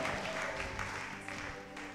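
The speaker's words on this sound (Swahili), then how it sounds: "Nipigie mimi makofi ninayesema." A church congregation claps during a sermon, steady sustained applause filling the hall without a break.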